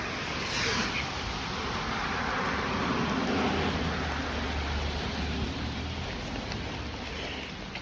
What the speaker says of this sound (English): It's just starting to rain too hard.